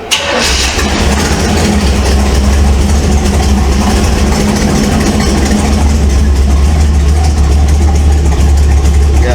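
A 1948 Ford F1 custom panel truck engine cranks over and catches, then holds a loud, steady idle close by with a deep rumble and no talking.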